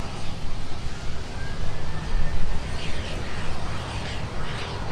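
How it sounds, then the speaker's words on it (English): A United A320 rolls along the taxiway at Minneapolis airport, producing a steady low engine rumble with a faint rising whine, moderately close and continuous, with faint bird-like chirps in the background. "the United A320 currently passing by us on taxiway"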